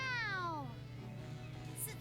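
A Tales of Berseria game character voices a cat meow imitation: one drawn-out, falling, sing-song "meow" in a clear voice, followed by a quieter tail.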